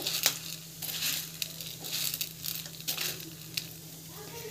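A spiced mixture sautés in a pan, a quiet sizzle broken by repeated scraping and stirring strokes at an uneven rhythm, close and fairly faint.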